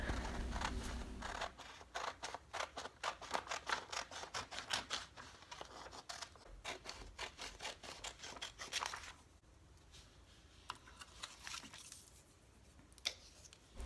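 Scissors snipping out a paper gift tag cut from a calendar page, a quick run of close, crisp repeated cuts that slows and grows quieter toward the end.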